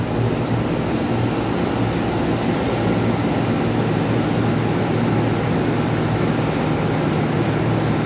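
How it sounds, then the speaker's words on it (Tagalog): A 2-horsepower blower on a chiller runs with a steady, loud, broadband whooshing drone and a constant low hum, unchanging throughout with no talk. "May 2 horsepower sa blower."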